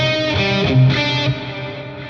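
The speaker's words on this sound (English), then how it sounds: "Listen to how delay and reverb fill in the space." Distorted electric guitar riff in open C tuning, a metal passage with sustained chords and notes washed in delay and reverb, ringing steadily and filling the space, with no voices.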